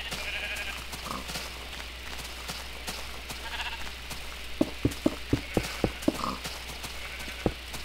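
Sheep bleating in the Minecraft video game, soft calls over a steady background hum, followed by a run of quick sharp clip-clop taps.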